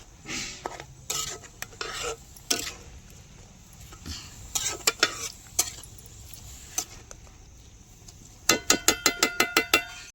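A spatula scrapes and clinks against a pan as spring onion greens are stir-fried, with scattered metallic taps building to a quick, loud run of clanks at the end. No one speaks.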